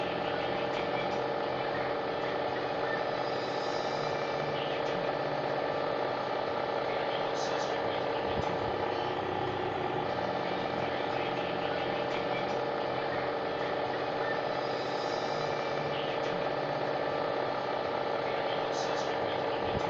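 A 2000-watt air flux generator runs steadily with its cooling fan, giving a constant broadband whir and hum that stays even and loud throughout.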